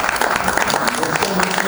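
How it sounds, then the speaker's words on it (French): An audience claps at a press conference for an international film festival, a brief burst of dense applause with a voice talking over it. "On peut encore les applaudir s'il vous plaît."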